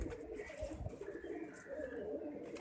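Banded pet pigeons coo softly and repeatedly nearby over a low background hum, with no talking.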